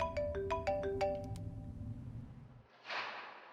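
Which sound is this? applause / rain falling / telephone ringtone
telephone ringtone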